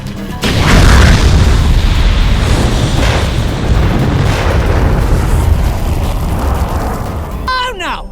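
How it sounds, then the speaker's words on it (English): A Jak 3 beam reflector weapon unleashes a loud sustained blast that booms and roars through a room of enemies, a heavy explosive wash lasting several seconds before tapering off. "the main one you're going to be using is the beam reflector, aka the room clear tool"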